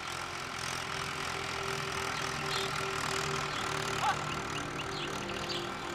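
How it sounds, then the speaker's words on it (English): A farm tractor engine runs with a steady low rumble and faint knocking, heard at moderate distance as a continuous drone under faint village background sounds. "The bull is gradually being replaced with the tractor."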